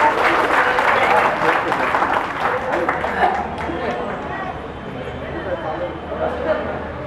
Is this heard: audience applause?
yes